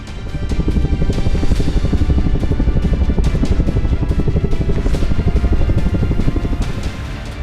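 An HAL Prachand attack helicopter of the Indian Army flies close by, its rotor thumping in a steady, loud, rapid beat over a constant heavy engine roar, with no voices.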